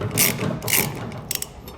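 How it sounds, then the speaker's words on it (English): A spare tire winch on a 2021 Ram 1500 Classic pickup being cranked down, giving short metallic ratcheting and clicking bursts with a couple of sharp ticks near the end, close and fairly quiet. "we're actually going to have to lower the spare tire just slightly in order to get my tool up there"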